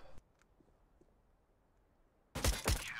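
Gunfire in the video game CS:GO: faint clicks and a soft tap early, then near-silence, then a loud, sharp burst of two or three rapid shots at the end.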